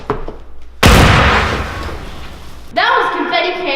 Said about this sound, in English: that was confetti cannon number 2.